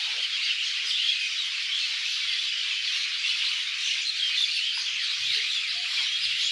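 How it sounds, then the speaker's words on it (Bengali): Birds chirp in trees at Baliya, Dhamrai, Dhaka, a busy, steady chorus of overlapping squawks and tweets with no talking. "দেখুন পাখিরা যেন কিচিমিচি করছে এক গাছ থেকে আরেক গাছ"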